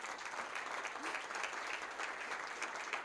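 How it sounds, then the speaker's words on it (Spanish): Applause from the audience at a Rosario community forum on violence, a steady crackle of clapping that holds evenly across the whole stretch at moderate loudness. "se merecen un aplauso"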